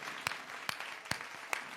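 An audience at a Hindi poetry recital claps after a couplet, a light, fairly quiet patter of applause with a few sharper louder claps standing out at regular intervals, no voices.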